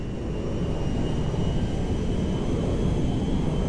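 Airplane engine droning steadily and loudly as it comes in to land at McKenzie Field in GTA 5, a continuous broad roar with no breaks and no talk.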